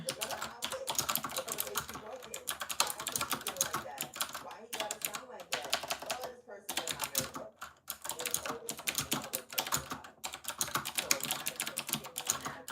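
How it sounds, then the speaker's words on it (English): Steady, rapid clacking of a small typewriter-style computer keyboard, close and continuous with brief pauses between bursts of keystrokes. "I love my little keyboard typewriter."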